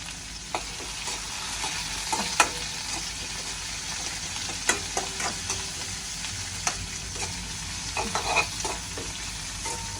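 Curry leaves and rampe sputter as they are tempered in hot oil, a loud dense sizzle with sharp crackling pops scattered throughout.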